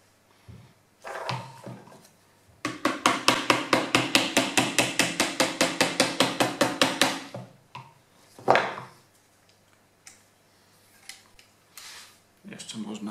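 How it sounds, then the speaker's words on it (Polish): A hammer taps the wedge of a Howdah Hunter pistol during reassembly, a fast even run of about thirty sharp metallic knocks followed by a few isolated louder strikes, close and clear with no speech. "No i ja to robię za pomocą młotka."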